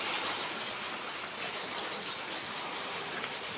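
Steady heavy rain pours down in a dense, continuous hiss with a broad wash of drops and no pauses.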